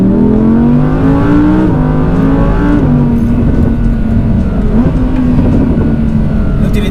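Audi R8 Plus with a ten-cylinder engine and all-wheel drive howls loud and close as it revs under acceleration, the pitch climbing and dipping slightly through shifts in a constant dense roar.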